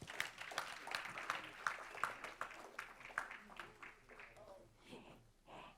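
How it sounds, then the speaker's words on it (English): Light scattered clapping from a small crowd at a school board meeting honouring students, a sparse patter of hands that thins out with voices talking over it. "Let's give them another round of applause."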